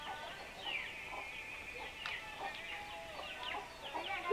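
Chickens clucking softly in a yard, a run of short rising and falling clucks and chirps over low background noise, moderately close and without talk.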